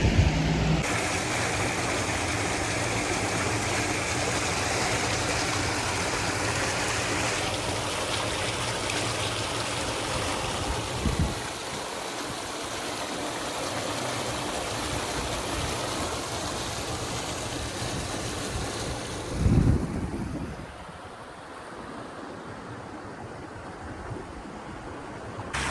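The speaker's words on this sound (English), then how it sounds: "Water's really coming out over here." Water flowing out near a pipe at a hidden wetland at St. Vincent Ponds in Pennsylvania, a steady rushing stream-like wash that holds for about twenty seconds, then drops lower after a brief thump.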